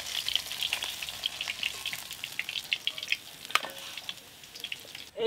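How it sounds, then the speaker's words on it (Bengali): Oil sizzles steadily in a pan, ready for frying potatoes, a close, continuous crackle with sharp scattered pops and spits, ending in a brief louder clatter. "এই তেলে আলুগুলো ভেজে নেবো"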